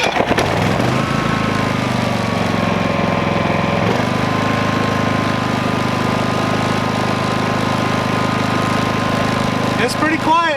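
A Predator 5000-watt dual-fuel inverter generator runs beside a fifth-wheel RV, a steady mid-pitched engine drone that holds evenly throughout, close and fairly loud.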